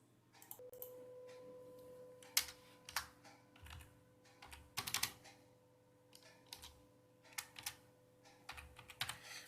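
Computer keyboard key presses, including the Alt key: sparse, crisp clicks at an uneven pace, quiet and close, over a faint electrical hum with no voices.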